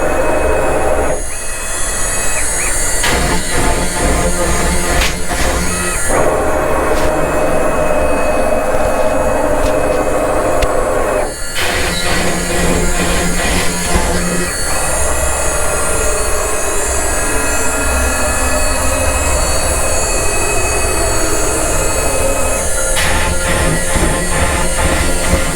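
A CNC machine cuts a guitar body, giving a loud, continuous whining drone with tonal shifts and abrupt changes as the cutter moves through passes, heard close and without talk.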